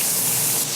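Hanger steak sizzles hard in a hot pan while it is basted with butter, a loud, steady hiss that holds constant and dips slightly near the end, close up with no talking.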